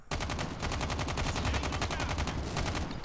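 Automated sentry gun firing in the mobile shooter Call of Duty Mobile: a continuous, rapid, evenly pulsed stream of loud gunfire running without a break, close and dominant, with no voices.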